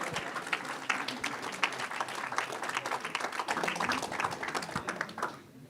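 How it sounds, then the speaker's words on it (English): An audience at an International Human Rights Day event claps in a dense burst of applause, fairly close and steady before tapering off in the final moment. "Please give a round of big applause."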